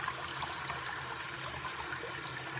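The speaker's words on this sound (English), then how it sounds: "Turn up the faucet all the way up." A classroom faucet turned up all the way runs at full force, a dense steady rushing hiss of water heard up close from start to finish.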